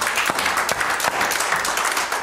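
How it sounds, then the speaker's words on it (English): Church congregation giving a hand clap during a morning service, many people clapping together in a brisk, dense burst close by. "Give the Lord a hand clap this morning."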